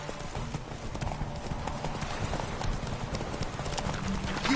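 Hoofbeats of Roach, Geralt's horse in The Witcher 3, galloping steadily and close up in a rapid continuous clip-clop rhythm, with a faint voice in the background.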